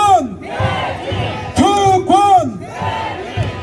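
A protest crowd rallying to abolish lawmakers' privileges shouts a two-syllable slogan in unison, loud, close and rhythmic, with about three chant bursts separated by a leader's voice and crowd murmur.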